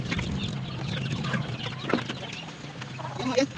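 Pet chickens and ducks cluck and murmur in a yard, a continuous close flock chatter with a few sharper calls, while a person talks quietly underneath.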